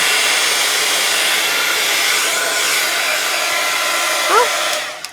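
A hair dryer blows in a steady, loud rushing whoosh onto a foamiran craft flower, running continuously before cutting off near the end.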